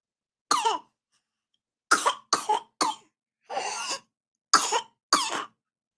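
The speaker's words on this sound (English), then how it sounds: "Thank you for coughing right in my face." A series of sharp, close coughs, single and in quick pairs, with short pauses between and a slightly longer rough cough in the middle.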